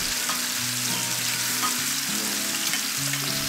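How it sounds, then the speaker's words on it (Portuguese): Olive oil and chopped garlic frying in a skillet with a pinch of salt, giving a loud, steady, close sizzle throughout, with low sustained tones humming underneath. "Vou pôr azeite, alho na frigideira"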